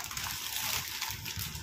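Water splashes and sloshes steadily while a steel bottle is rinsed and washed, close and moderately loud, with no talk.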